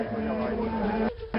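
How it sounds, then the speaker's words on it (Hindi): Sustained voices chanting in a steady drone with a low held pitch, continuing nearly unbroken before a brief pause and resuming. "लगातार मंत्रोच्चार भी आप सुन पा रहे होंगे"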